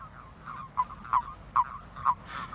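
Male frogs calling in a pond at night, four clear croaks spaced about half a second apart, moderately close, over low background noise with fainter calls between.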